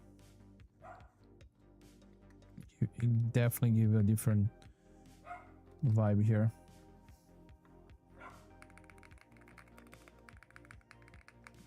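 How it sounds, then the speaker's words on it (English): A dog barks in two loud bursts in a room, several rapid barks each time, with someone talking and light keyboard tapping around them. "Dog's going wild."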